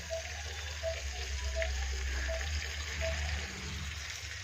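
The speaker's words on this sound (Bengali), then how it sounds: "এই যে মাছ ভাজা এখন" Fish caught from a home pond frying in oil, a steady soft sizzle with faint crackles, heard at a moderate distance without talk.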